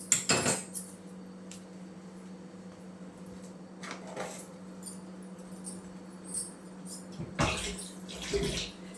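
Spoon mixing rice flour dough in a pot, with a few sharp metallic clanks and scrapes against the pot's sides, separated by quieter stirring and a low background hum, with no talking.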